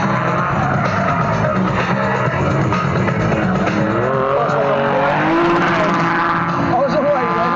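At Santa Pod, a stunt car's tyres squeal and smoke as the brakes are pumped, and the engine roars steadily and loudly with shifting tyre screech throughout.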